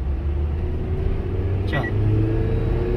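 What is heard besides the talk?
car engine accelerating while driving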